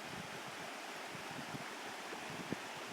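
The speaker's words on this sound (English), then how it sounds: "I think this is where everybody likes so they can hear the river." A river flows through the woods as a steady, soft broadband rush, continuous and moderately distant, with faint low thumps and no voices.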